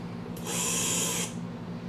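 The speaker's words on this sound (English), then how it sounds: "So this is the Milwaukee drill." An older Milwaukee power drill whirs briefly at high speed for under a second, starting and stopping sharply over a faint steady background hum.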